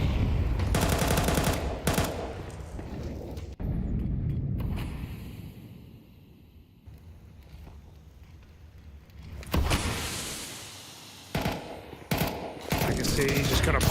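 Bursts of Galil rifle and pistol fire in a Counter-Strike esports match, several sharp rapid volleys separated by quieter stretches of footsteps and ambient game noise.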